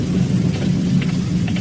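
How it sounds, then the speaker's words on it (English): Steady rain pours down with a low rumbling thunder-like roar underneath, a continuous dense wash of sound with no talking. "I think it's raining."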